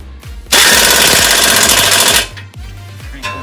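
Pneumatic impact wrench hammering knuckle bolts tight during a clutch install on a Hyundai Veloster Turbo, one loud continuous rattling burst of about two seconds followed by a few short clanks and rustles of work nearby.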